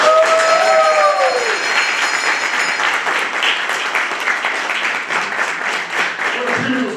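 Audience applause at a 2024 poetry slam concert, a dense wash of many hands clapping that fills the whole stretch, with brief cheers and a fading sung or held vocal tone at the start.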